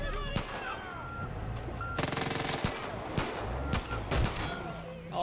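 Gunfire in Far Cry 5: sharp shots and a rapid automatic burst mixed with ringing electronic tones and game noise, fairly quiet, with a voice talking over it.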